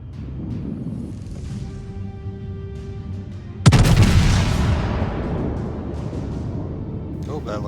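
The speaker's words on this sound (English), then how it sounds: "That looks like a good group of shots." A naval gun salvo fires in World of Warships, a sudden loud broadside boom that rolls into a long decaying rumble after a stretch of quieter ambient game sound.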